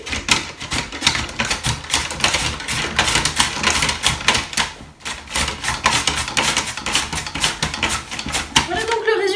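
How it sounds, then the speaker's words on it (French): Sweet potato is sliced into julienne on a mandoline in a steady run of rapid, crisp clacking strokes, close and continuous, with a person talking over it. "grâce à la mandoline, une julienne en fait de patates douces"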